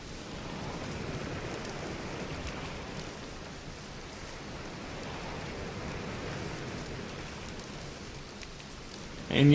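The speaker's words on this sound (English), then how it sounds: "Oh, it's raining." Rain falling in the Stoneship Age of the video game Myst, a soft, steady hiss of drops that stays even and fairly quiet for the whole stretch, with no talking over it.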